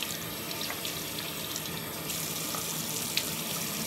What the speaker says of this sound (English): So what I'm about to do right now is just rinse this off with some warm water and a washcloth.